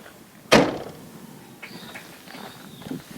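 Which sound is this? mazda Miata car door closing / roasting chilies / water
mazda Miata car door closing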